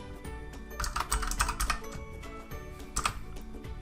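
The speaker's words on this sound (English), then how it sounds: "typing more words of text that you'd like to put in" Rapid typing on a computer keyboard, close and clear, with uneven bursts of key clicks and short pauses over a little under four seconds, no voices.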